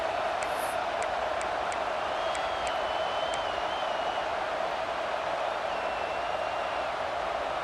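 Stadium crowd in a college football video game, an Oklahoma State dynasty, roaring as a dense, constant wash of noise with faint whistles and cheers rising over it.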